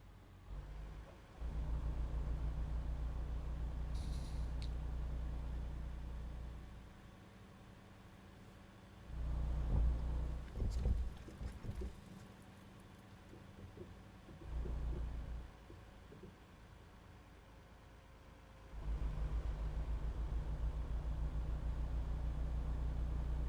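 Western Star semi truck in American Truck Simulator, a low steady diesel drone that cuts in and out as the throttle changes, with a brief burst of revving in the middle before the engine settles into a sustained hum.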